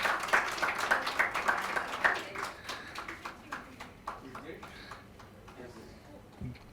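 Audience at a diploma awarding ceremony claps in a sustained round of applause that gradually thins and fades, with a few sharp claps near the end.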